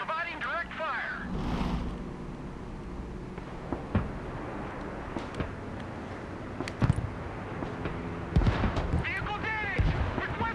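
Mobile artillery firing in the video game Broken Arrow: several sharp booms scattered through a dense battle din, with sporadic gunfire and rumble, while voices speak over the action.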